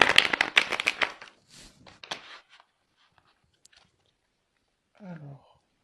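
Tarot cards are shuffled and drawn in a burst of close, crisp riffling and slapping, then a few faint taps, followed by a brief moment of talking.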